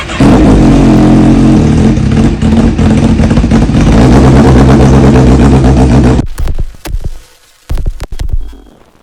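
Yamaha Aerox 155 scooter with a newly fitted exhaust, revving loud and steady for about six seconds, then cutting off to a few short blips of the throttle.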